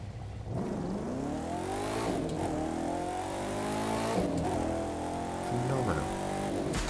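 A Red Bull off-roader in The Crew 2 revs loudly and continuously, its engine note climbing and falling through gear changes with a brief tire squeal, heard close with no speech over it.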